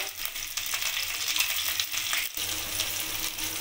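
Chopped garlic and green chili fry in a pan for pasta, giving a steady, close crackling sizzle with light stirring scrapes and a brief dip midway.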